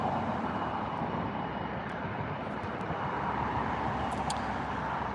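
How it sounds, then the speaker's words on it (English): A TUI Boeing 787-9 airliner departing Gatwick, heard as a steady, loud broadband engine roar that holds evenly throughout with no voices. "Here comes TUI. TUI 787-9, and that is off to Cancun."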